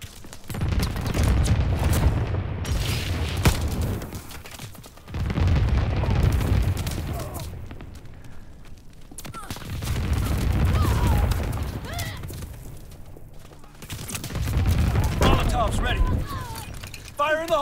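Explosions in the Call of Duty WWII video game, heavy booming blasts rolling in several waves with rumbling debris and mechanical clatter, game voices heard between them.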